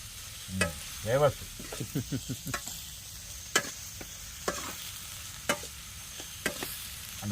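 Sliced onions fry in a pan for a fish curry, with a faint steady sizzle broken by a series of light scraping stirs and occasional sharp clicks of a spoon against the pan, close and quiet.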